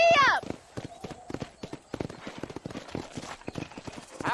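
Horse hooves clip-clopping at a gallop in the video game Red Dead Redemption, a quick rhythmic patter that follows a short whinny, with someone talking over it.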